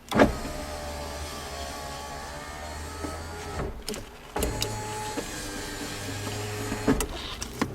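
Electric power window motor in a 2002 Chevy Cavalier door whirring steadily as the switch is worked, with a brief pause and clunk midway before the motor runs again; close and moderately loud, with no talking.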